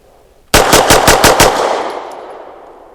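Six rapid 9mm shots from a Grand Power Mk23 pistol firing 115 grain rounds, sharp and loud in quick succession, with the reports ringing off into a fading echo.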